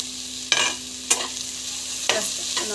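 Onions and green chilli sautéing in a pan, a steady frying hiss broken by a few sharp scrapes of the spoon as the mix is stirred, close and fairly loud.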